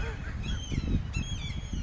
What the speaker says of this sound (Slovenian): Galebi, čak malo.